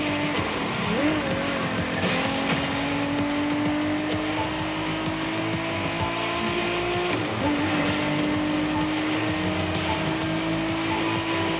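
A car engine in The Crew Motorfest drones through a tunnel, its pitch climbing steadily under a sustained roar with faint tire noise, loud and close throughout.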